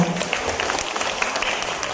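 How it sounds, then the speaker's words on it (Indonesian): Audience at a village women's group award event applauds a winner: a brief, thick wash of clapping from many people, steady and even throughout. "Tepuk tangan dong."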